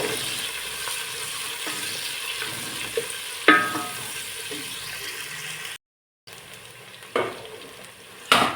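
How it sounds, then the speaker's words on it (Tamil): Chopped onions frying in a pan for vegetable biryani, a steady soft sizzle with occasional stirring scrapes and clinks, close and moderately loud, with a brief cut to silence midway. "வெங்காயம் நல்லா வதங்கட்டும்"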